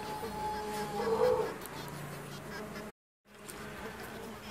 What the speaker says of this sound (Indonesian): itu sekilas untuk cek koloni pada lebah saya